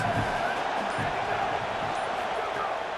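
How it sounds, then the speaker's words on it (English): Stadium crowd in EA Sports College Football roaring for the defense on a big third down, a loud continuous wash of cheering noise that stays steady throughout, with an announcer's voice faintly underneath. "Big third down as the crowd gets behind this defense."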